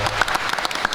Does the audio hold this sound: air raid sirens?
no